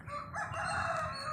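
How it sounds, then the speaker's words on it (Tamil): A rooster crowing near a house at the edge of a forest, one drawn-out call heard faintly at a distance, with no voices over it. "ஆமாம், இங்கே ஒரு கோழி அந்த இருக்கு."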